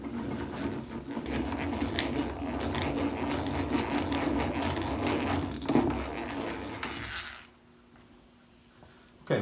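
A drill bit bores a hole through wood at a log cabin, a steady grinding, clattering whir that runs for several seconds, then cuts out to near silence before a final knock.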